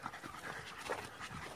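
A dog panting on a hike in the countryside, quick rhythmic breaths heard close by and fairly quiet, with no talk over it.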